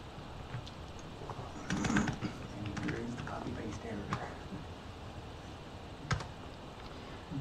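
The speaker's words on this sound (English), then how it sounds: "That's too much typing" Rapid keystrokes patter on a computer keyboard in irregular bursts, close and fairly soft, with a few sharper clicks standing out. Background room noise runs throughout.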